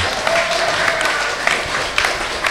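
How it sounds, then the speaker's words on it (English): A church congregation claps steadily through a Passover sermon, a dense, continuous wash of many hands in a hall with no pauses, loud and even throughout. "If you are clapping, clap very well."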